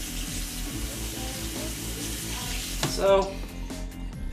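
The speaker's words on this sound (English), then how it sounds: "Rinsing off my scoop." Tap water runs steadily over an ice cream scoop being rinsed in a kitchen sink, with a brief splashy surge near the end. A voice speaks a short word.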